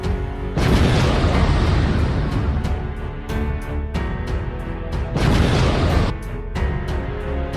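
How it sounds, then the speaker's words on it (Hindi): A loud cartoon explosion blows up a machine as a roaring, crackling blast that swells and repeats in heavy bursts, filling the sound without any voices. "हमें उस मशीन को फोड़ना पड़ेगा।"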